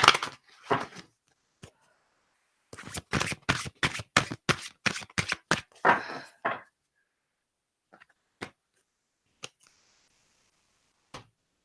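A deck of tarot cards being shuffled by hand, with quick bursts of riffling and sharp card snaps in clusters, then a few isolated taps in near silence.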